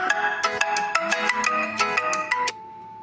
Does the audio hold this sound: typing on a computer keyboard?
no